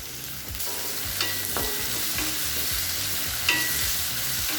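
Tomato frying in a pan with chopped green chillies and shallots, a steady close sizzle with the scrape and knock of a spoon stirring several times.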